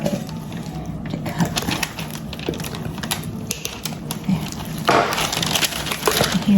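A turkey joint snaps and cracks during deboning, with sharp woody clicks and crunching up close, a louder burst of crackle near the end.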